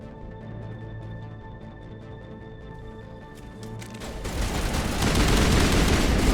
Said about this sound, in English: They started firing first.